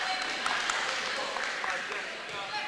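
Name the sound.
crowd applause at a girls basketball game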